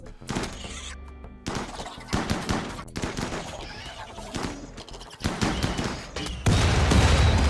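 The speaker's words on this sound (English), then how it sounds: "those grenade launchers are actually doing quite a bit of work" Grenade launchers and gunfire in a Rimworld battle, with dense bursts of explosions and shots going off in rapid, loud volleys that build toward a heavy, continuous roar at the end.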